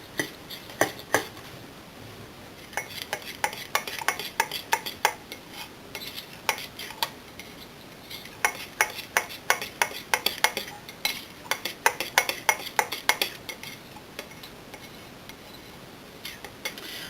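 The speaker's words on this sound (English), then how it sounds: "So you're just going to keep stirring this until it's all incorporated." A spoon stirring brownie batter in a bowl, sharp repeated clinks and scrapes in irregular bursts, close and moderately loud with quiet pauses between.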